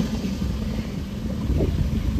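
A fast motorboat roars past on the Alleppey backwaters in Kerala, a steady loud rumbling engine and water rush that swells slightly toward the end, with wind buffeting the microphone.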